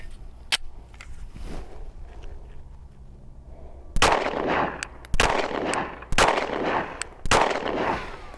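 Five pistol gunshots crack out loud and close at a shooting range, fired at a steady pace while testing a Gideon Optics Judge budget red dot sight, with quieter ambient noise before them.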